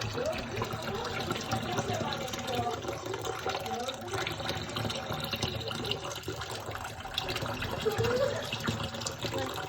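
A water tap runs during a UHU glue experiment, a steady gush of flowing water heard throughout, with people talking over it.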